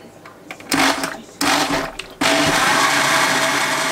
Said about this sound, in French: je les ai mis dans un blender et je vais mixer